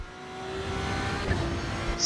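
Engine of a twin-turbo Ferrari 296 at the Nürburgring in the racing video game Assetto Corsa EVO, a steady droning hum with a faint whine, held at constant pitch under light road noise.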